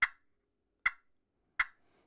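A slate turkey call imitates a hen's cluck: three sharp, bright clucks at roughly even intervals, close and clear against silence.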